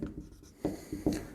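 Brief strokes of writing on a board during a physics class: soft scratches followed by two sharper taps close by, with no one speaking.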